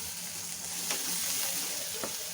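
Tomatoes sauté with potatoes in a pan over low heat, giving a steady close sizzle with a couple of brief scraping stirs.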